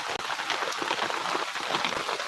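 Steady rain falls in Konkan during a heavy downpour, a dense even hiss of drops pattering on surfaces without pause, with one brief sharp dropout near the start.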